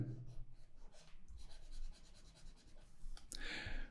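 An eraser wipes writing off a board during a math lesson, making soft, brushy rubbing strokes that run as a faint, steady scrubbing texture with a sharper swipe near the end.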